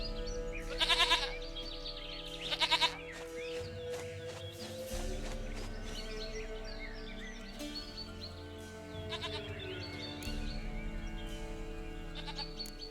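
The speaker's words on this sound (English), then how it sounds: "Goat of mine, dearest, sweetest goat." A goat bleats twice in the video game The Witcher 3: Wild Hunt, short wavering calls over a steady musical and ambient game backdrop with clip-clopping hooves.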